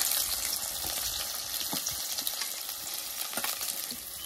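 Finely chopped onions fry in hot oil in a heated kadhai, giving a steady, close sizzle with crackling pops and occasional stirring scrapes, with no talking.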